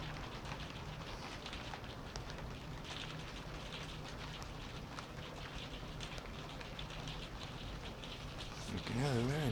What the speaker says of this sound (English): You can hear the rain going.